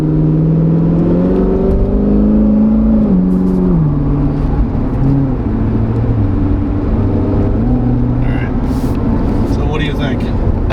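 A Corvette Z06 fitted with a ported 95mm throttle body revs loudly and up close, its deep rumbling engine tone stepping up and down in pitch through repeated blips.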